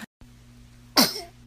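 One sharp, loud sneeze bursts out near the end, following a short pause and a low, quiet room hum.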